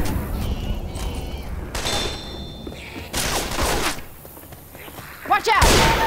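Bursts of gunfire aimed at the Tank in the video game Left 4 Dead 2 come in several loud, separate volleys with brief pauses between them, mixed with game noise and shouting.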